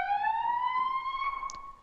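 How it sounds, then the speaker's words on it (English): A loud fire truck siren in the video game EmergeNYC wails in a single rising tone, close and dominant, with a brief sharp electronic chirp near the end. "They are really loud. That is just disclaimer in this video, is they're really loud sirens."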